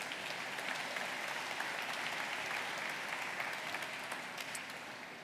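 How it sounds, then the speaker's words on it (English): Applause from the audience at the opening ceremonies of a space explorers' congress, a steady wash of clapping held throughout at modest distance, quiet and unbroken by voices. "Now would be a good time to clap."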